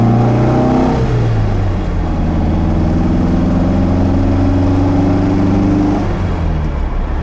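A 1960 MGA Coupe with a rebuilt brake system pulls away hard, its engine note climbing steadily in pitch through the revs, loud and close, with no talk over it.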